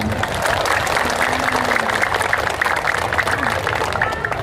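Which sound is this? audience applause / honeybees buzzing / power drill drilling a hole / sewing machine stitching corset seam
audience applause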